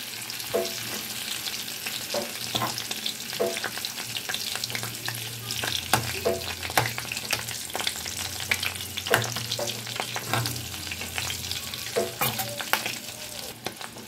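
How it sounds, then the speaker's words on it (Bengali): Fish roe sizzling in a hot pan after being turned over, a continuous crackling fry broken by repeated spatula scrapes and taps, close and steady, with no talk. "মাছের ডিমগুলোকে এখন আমি একটু উল্টে দেব।"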